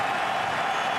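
Stadium crowd roaring at a CFL football game between the BC Lions and Saskatchewan Roughriders on a tense third down, a loud, continuous wash of massed noise that holds steady throughout.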